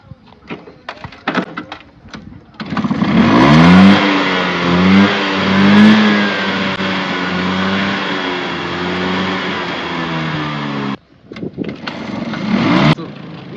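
An old Bajaj Chetak scooter starts and idles loudly up close, its small engine revving in rising and falling surges for several seconds before cutting off, with people talking around it.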